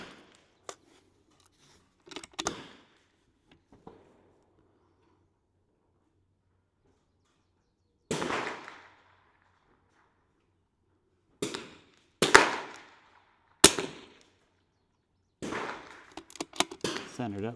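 Sharp .22LR rimfire rifle shots fired with Lapua Center-X match ammunition: a handful of crisp, separate cracks at irregular intervals, loud and close, with short quiet gaps between them.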